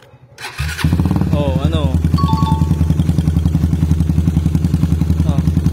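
A motorcycle engine fires up after a brief crank and settles into a steady, loud, rhythmic idle as it warms up, with people talking briefly over it.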